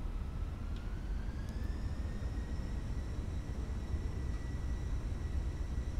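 Airbus A320 engines in a flight simulator spool up toward climb thrust, a steady airy roar with a thin whine that rises in pitch and then holds, continuous and fairly quiet.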